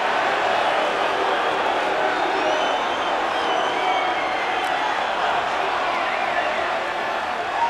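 A rugby stadium crowd at Manawatu v British & Irish Lions roars steadily and loudly throughout, a dense continuous wash of cheering sensing a try.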